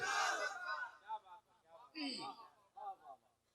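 A crowd at a Muharram religious gathering shouts back a response to the Naara-e-Takbeer slogan. Several loud, short bursts of massed voices come in an uneven rhythm, separated by brief pauses.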